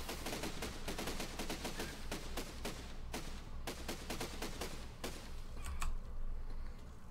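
A machine gun in the building game Besiege fires rapid, steady bursts of sharp cracking shots over a constant mechanical rumble, with the final shots spaced out and trailing off near the end.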